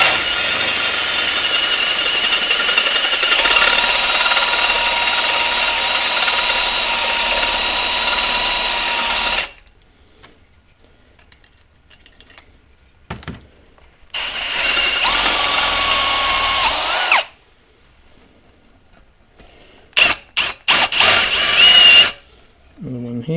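A power drill runs taps to cut threads in steel on a tractor loader repair, with a loud sustained whine for several seconds, then shorter bursts separated by silence and a few quick final blips.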